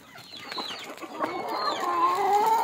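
A group of hungry farm chickens clucks at feeding time, with overlapping calls rising in number and loudness toward the end, near and busy.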